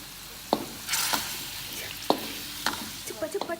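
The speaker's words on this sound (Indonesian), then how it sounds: "Lalu kita aduk lagi." Ground spice paste with salt is stirred in a pan, giving a handful of scattered scraping strokes and soft clacks over a quiet sizzle.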